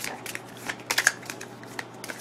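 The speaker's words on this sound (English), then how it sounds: "Trying to make a real good shuffle so we get some real true randomness" A deck of cards is shuffled by hand during a tabletop game, giving a quick series of soft riffling bursts and taps, close and fairly quiet, with no talking.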